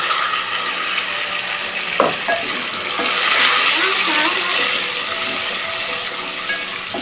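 Tomato paste sizzles in a pan with cauliflower for a hotel-style gobhi sabzi, making a loud, continuous crackling hiss up close with scattered clinks from stirring.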